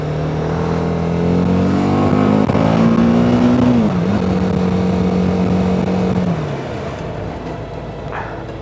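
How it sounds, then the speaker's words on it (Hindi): Road traffic on a hill-town street in Shimla, with a nearby engine droning loudly and shifting pitch as it revs and eases off, then fading to a lower background hum of passing vehicles. "This is the situation of traffic."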